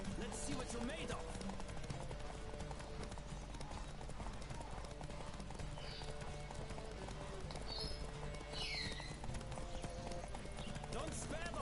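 Horse hooves clip-clop in a fast gallop during a race in The Witcher video game, heard steadily under game music and a character shouting.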